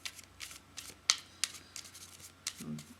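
Tarot cards are shuffled by hand in a quick series of close, papery riffles and taps, with no voice over them.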